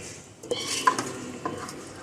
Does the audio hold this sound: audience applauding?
no